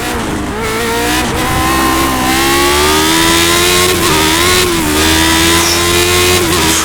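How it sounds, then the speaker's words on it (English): A loud Lotus 79 race car engine in iRacing at the Canadian Grand Prix revs high and climbs in pitch, staying close and continuous with brief dips as the wheels spin. "you just hear the RPMs go up as the wheels spin"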